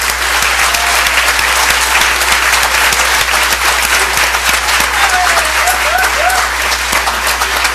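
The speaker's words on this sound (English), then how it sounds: "Let's give them a round of applause." Loud, close applause from a board meeting audience honoring parents and their kids, dense clapping throughout with a few voices cheering faintly underneath.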